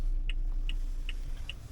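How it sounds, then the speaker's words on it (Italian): A car's turn signal ticks steadily from inside the cabin, about four or five evenly spaced sharp clicks over a low, quiet road rumble. "anche la freccia si sente molto bene."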